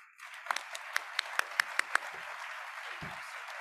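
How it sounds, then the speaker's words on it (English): Applause at an awards gala for a conference academy honoree. A handful of distinct, sharp claps ring out close by over about a second and a half, then fade into a quiet room. "Please join me in a round of applause."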